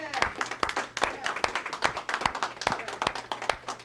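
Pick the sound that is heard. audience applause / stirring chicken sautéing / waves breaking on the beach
audience applause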